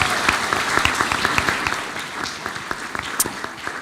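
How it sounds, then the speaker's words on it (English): An audience claps together at a school board of education meeting, a dense steady burst of applause that thins out toward the end, with faint voices mixed in. "let's do one more round of applause right there for our young people"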